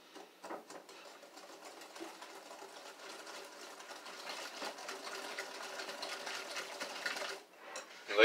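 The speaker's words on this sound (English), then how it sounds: "And I'm going to whisk this." A whisk scrapes and clatters rapidly in a bowl of ketchup, brown sugar and mustard, a soft continuous stirring that is close and fairly quiet and builds gently before stopping.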